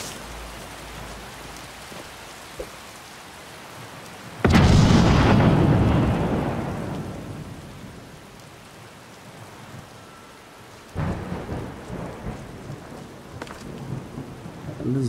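Rain and thunder in the video game Skyrim Special Edition with visual mods: steady rainfall under a sudden loud, close thunderclap that rumbles and fades, followed by a second rumbling roll of thunder.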